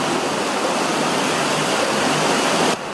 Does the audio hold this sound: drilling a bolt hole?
no